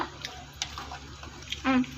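Water is added to a simmering mutton curry in a home kitchen, making faint trickling and splashing with a brief, clearer pour near the end, all low in level.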